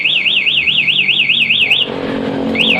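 BHT Gold alarm fitted to a 2020 Yamaha NMAX motorcycle, a loud close wailing electronic siren oscillating rapidly up and down, briefly breaking off before resuming, over a faint low engine hum.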